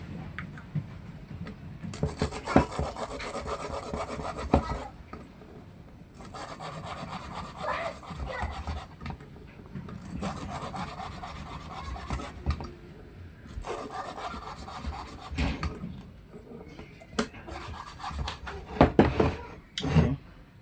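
An engine cylinder valve is ground against its seat in repeated back-and-forth bursts of harsh rasping and rubbing, each lasting a few seconds with short pauses between, close and fairly loud.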